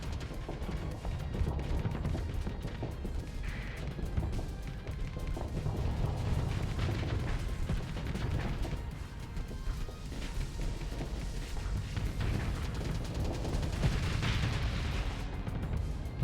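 Rumbling space-combat explosions and weapon bursts from the Starsector video game form a dense, continuous low roar, steady and fairly loud, with no speech over it.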